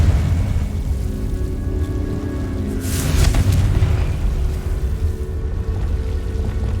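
The Confringo blasting spell detonates in the Hogwarts Legacy video game, a heavy low booming rumble that swells into a brighter crackling burst midway, loud and sustained throughout with no talk.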